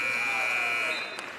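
A loud, sustained electronic end-of-quarter buzzer at a basketball game drones for about a second, then fades under arena noise.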